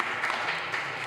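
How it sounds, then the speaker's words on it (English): Applause from an audience at a committee meeting: a steady, fairly quiet wash of many hands clapping that lasts throughout without a break. "So again, I will applaud you all."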